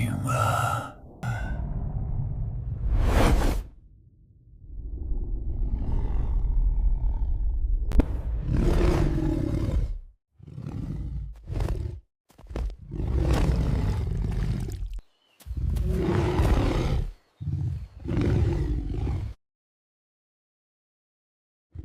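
Deep, breathy lion roars and growls come in bursts separated by short silences, close and fairly loud, like a big cat snarling.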